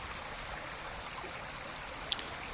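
Flowing water of the Jinjim River babbles steadily as a soft, even wash with no pauses, plus one faint brief click near the end.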